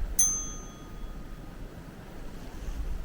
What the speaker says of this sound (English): And you see the Enviro bell over there.